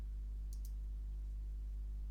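Two quick, light clicks of a computer mouse in a double-click, close and crisp against a steady low electrical hum during a software installation.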